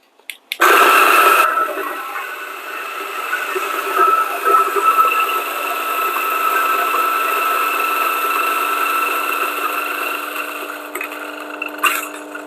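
Coffee being ground as part of an Ascaso Steel Duo PID espresso setup: a steady, loud motor whine with a gritty grinding buzz that starts abruptly and runs unbroken for around eleven seconds before winding down.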